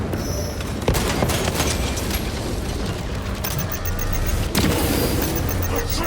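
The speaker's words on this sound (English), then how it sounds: "Throwing frag grenade!" Frag grenade explosion and ongoing combat in Warhammer 40000 Space Marine 2: loud, dense battle noise with sharp blasts near one second and four and a half seconds, sustained roar and debris between them.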